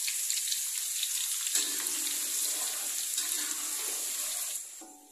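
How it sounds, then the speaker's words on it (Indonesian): Shallots frying in hot oil for a catfish dish, giving a steady close broadband sizzle and crackle that runs continuously and fades slightly at the end, with no talking. "Setelah minyak panas langsung saja kita goreng untuk bawang merahnya."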